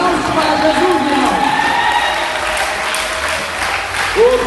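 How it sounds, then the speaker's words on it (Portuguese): A church congregation claps along during worship singing, a dense continuous patter mixed with voices and some cheering, loud and close throughout. "Applaudissez pour Jésus, frère."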